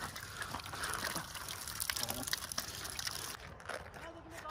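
Water trickles and splashes softly at a hillside stream during a trek, a continuous faint liquid wash with people talking quietly over it.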